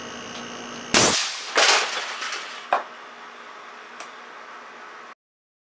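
A CO2-powered solenoid valve air cannon at 450 psi fires one sharp, loud blast, then a second burst, followed by a couple of smaller clanks and ticks as the noise settles before cutting to silence.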